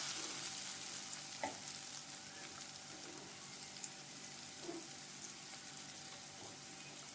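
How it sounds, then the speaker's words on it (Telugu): Chopped vegetables with tomato fry in a pan with a steady, even hiss of sizzling oil, punctuated by soft scrapes and taps of stirring, close but low in volume. "ఇవి యాడ్ చేసుకొని బాగా ఫ్రై చేసుకోవాలి."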